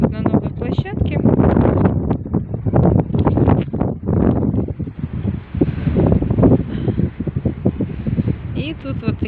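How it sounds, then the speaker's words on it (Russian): Very strong gusty wind buffeting an outdoor playground with gymnastics-style balance beams, roaring and rumbling steadily across the microphone throughout while someone talks over it. "Сейчас, правда, ветер очень сильный и прям сдувает."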